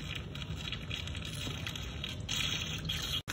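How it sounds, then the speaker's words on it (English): Filtered water poured into an indoor tabletop water fountain, a quiet continuous trickle and splash running steadily with no talk. "I think we'll add water in here."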